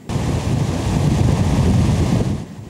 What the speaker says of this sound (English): It breaks the ridge, and the overflow stream changes to a violent river.